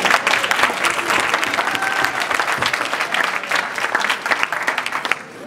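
Wedding guests break into loud, sustained applause, dense clapping from a full room that holds steady and then tapers off abruptly near the end.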